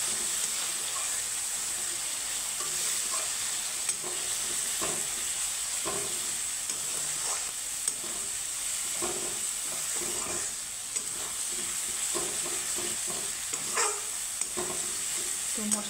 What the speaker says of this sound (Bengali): এখন মশলাটা সুন্দর করে কষিয়ে নিব।